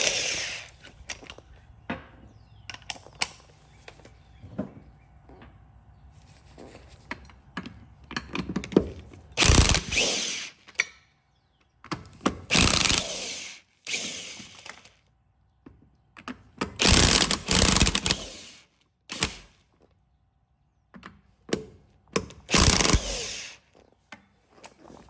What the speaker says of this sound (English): I'm going to take the lug nuts most of the way off